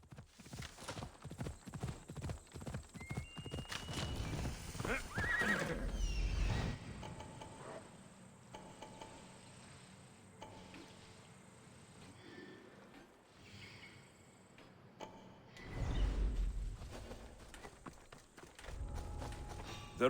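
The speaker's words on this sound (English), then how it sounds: "you get to ride a fire horse to town" In Assassin's Creed Odyssey, a fire horse's hooves clatter in a quick run at first, then fall quieter for a stretch before loud hoofbeats return, with a neigh and snorting breaths mixed in.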